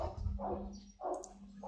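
A Rottweiler puppy barks in short, soft yips, about three separate calls spaced evenly, fairly close but faint, with a low hum beneath.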